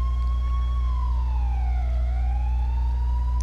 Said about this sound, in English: Oh, his siren popped on.